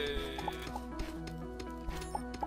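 Chickens cluck in the Starbound video game over looping game music, with a few short bursts scattered through the moment.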